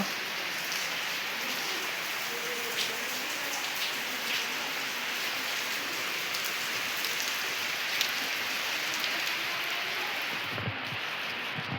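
Heavy rain pours steadily in a dense, even hiss, with scattered drops spattering nearby and no voices.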